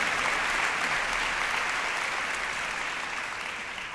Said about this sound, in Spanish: un fortísimo aplauso para él